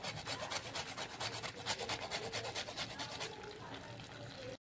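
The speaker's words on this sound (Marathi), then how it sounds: "हे जायफळ थोडंसं किसून घ्यायचं आहे" Nutmeg rubbed against a small grater for Narali Bhat sweet coconut rice, a quiet run of quick rhythmic rasping strokes that stops near the end.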